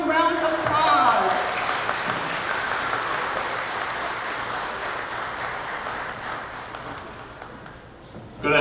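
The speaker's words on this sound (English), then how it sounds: "Please give him a warm round of applause." A warm round of applause from the audience at a retirement celebration honoring two Hmong community leaders, broad and steady at first, then slowly tapering off toward the end.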